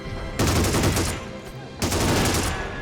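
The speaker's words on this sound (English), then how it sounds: "Got a heavy machine gun right there. Really opening up on the left flank." Heavy machine gun in the Army Men of War strategy game fires two sustained bursts, loud and close, separated by a short pause, with no talk.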